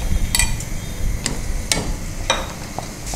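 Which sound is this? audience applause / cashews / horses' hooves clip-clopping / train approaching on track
cashews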